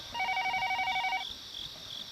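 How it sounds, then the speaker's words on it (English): An electronic telephone rings inside the Higurashi visual novel, a repeated warbling trill pulsing rapidly for about a second before stopping, followed by a faint high ambient hum like distant cicadas. "As I go back to my room, the phone rings again."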